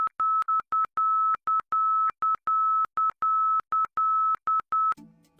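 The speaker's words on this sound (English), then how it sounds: "This marker's audio signal is a series of alternating Morse code dots and dashes at a high tone." ILS marker beacon audio signal: a high steady tone keyed in alternating Morse dots and dashes, crisp and evenly repeating, alone and loud until a brief burst of noise at the very end.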